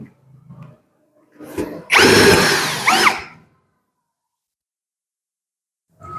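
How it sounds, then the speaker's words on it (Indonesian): A Lucid LX-60 cordless drill drives a roofing screw in a quiet room, one loud close burst of motor whine about a second and a half long, preceded by a short lighter run, then silence. "torsi 5 cukup ya untuk penyekrupan baut roofing"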